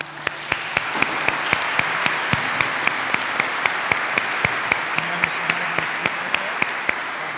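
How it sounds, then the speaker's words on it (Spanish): Steady applause from a Spanish-speaking parish congregation at Mass fills the church, dense and even throughout, with a few sharper claps standing out near the front. "Vamos a darle un aplauso a estos hermanos."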